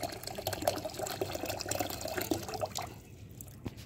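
Cold water drawn up by a pump splashes and trickles onto garden plants, a close, uneven gurgling and pattering flow that thins out toward the end.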